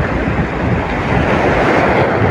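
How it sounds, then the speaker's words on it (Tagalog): Loud, continuous roar of big ocean waves crashing and churning on a rough sea while fishing, with gusty wind buffeting the microphone throughout. "Ala, lalaking alon."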